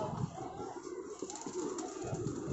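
Pigeons coo softly nearby in a high rooftop loft, low throaty bursts with a few overlapping calls and light background noise.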